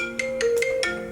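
Electronic phone ringtone of an incoming call, a short melodic chirp of several quick tonal notes, moderately loud over a low steady hum.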